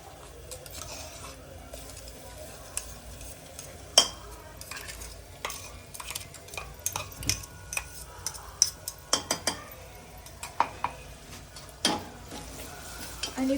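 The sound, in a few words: onion and ground masala paste being fried and stirred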